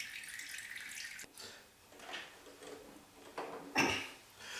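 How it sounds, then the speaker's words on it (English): Water drains and dribbles from a 1983 G.I. Joe APC toy, uneven close trickling in swells and a sharper splash near the end, with no speech. "That is carrying a lot of water out of just a short dunk."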